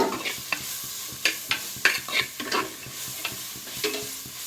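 Sliced onions frying in oil in a pan for a Tulu-style chicken puli munchi curry, a soft sizzle broken by repeated scraping stirs of a spoon, close and without talk.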